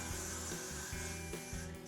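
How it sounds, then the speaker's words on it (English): Got2b Glued spray hisses in short repeated bursts onto a wig cap, close up, each spritz separated by brief pauses over a faint background hum. "I'm gonna spray this cap with the Got to Be Glued."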